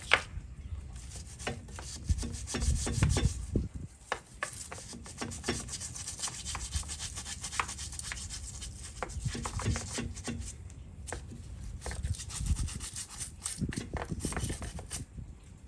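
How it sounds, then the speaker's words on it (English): A brush with cleaner scrubs a boat surface in close, irregular strokes, rough scratchy rubs coming in bursts with short pauses between them. "So just gonna do a little scrub here."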